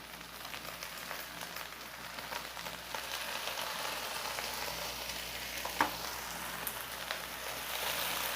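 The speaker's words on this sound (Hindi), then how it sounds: "हम अब इसमें अपनी भिंडी को अच्छे से फ्राई करेंगे इसी तेल के अंदर" Okra frying in oil in a pan, producing a dense, continuous hiss and crackle like steady rain, with one brief knock partway through and no voices.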